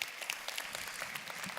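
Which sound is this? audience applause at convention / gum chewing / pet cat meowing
audience applause at convention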